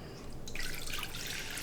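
A cup of water poured into a casserole dish, a steady close splashing and trickling stream that grows stronger after the start and carries on throughout.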